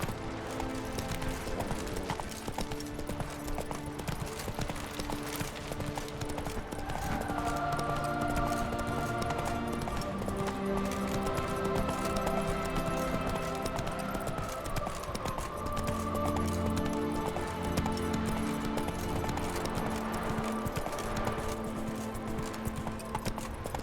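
Horse hooves gallop in a steady, rapid clip-clop through The Witcher 3, close and continuous beneath the game's musical score for the whole stretch.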